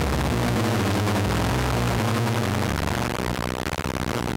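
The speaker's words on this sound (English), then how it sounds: "the Pasteurizer. It just transforms everything into square waves" A Dreadbox Pasteurizer synth module squares its input into a dense, buzzy, distorted tone that holds steadily loud throughout, with low pitches stepping and shifting under the harsh upper fizz.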